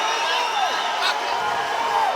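A boxing arena crowd rises to its feet during Jose Ramirez vs Jose Pedraza, a broad roar of cheering beneath a commentator's steady voice.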